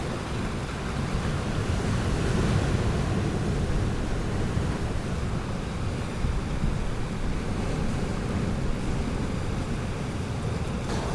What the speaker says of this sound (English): these gorgeous waves just swelling in